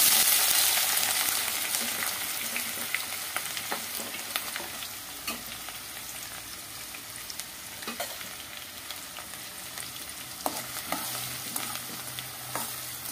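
Chopped onions and curry leaves fry in hot oil for a chicken curry, giving a steady broadband sizzle broken by sharp scrapes and clicks from a spoon stirring the pan, close up and with no talk.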